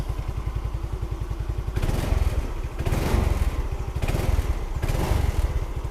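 A Yamaha Xeon 125cc scooter engine with a newly replaced carburetor idles with a rapid, even putter, then is briefly revved several times before settling back.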